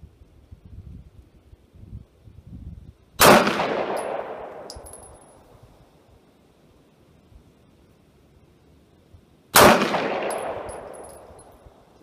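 A Wilson Combat custom Glock 19 Gen 5 pistol firing Hornady Critical Defense 115 grain FTX rounds on an outdoor range at 50 yards: two loud, sharp shots about six seconds apart, each trailing off in a ringing echo.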